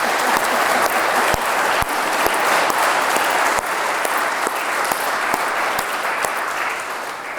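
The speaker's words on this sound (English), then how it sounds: "Yes, applaud yourself." Loud, sustained applause fills a room at a publication celebration as the audience applauds the writing program's authors, with a few sharp individual claps standing out and no speech over it.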